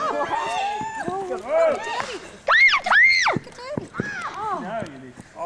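A baby yells out during a family cricket match by a river: several short, rising and falling high-pitched cries and shouts, close and loud, mixed with other voices nearby.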